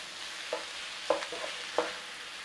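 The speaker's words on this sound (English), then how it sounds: "Just start to cook that beef in there." Chopped beef cooks in a pan with a faint, steady sizzle and a few soft scraping stirs, heard up close with no talking.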